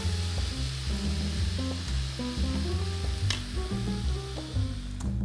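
Ground turkey sizzles loudly in a hot pan, a close, steady frying hiss with crackles and a stirring scrape. Rhythmic music plays underneath the whole time.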